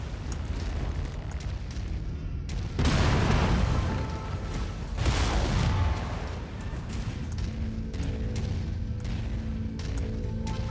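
Loud, rumbling explosions as targets are destroyed during Mechwarrior 5 combat, two big blasts at about 3 and 5 seconds over continuous mechanical battle noise and scattered smaller impacts.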